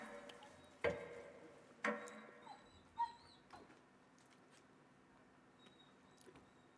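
A dog in a quiet indoor room gives a few faint, brief whimpers, with several sharp isolated clicks and knocks spaced out across the stretch.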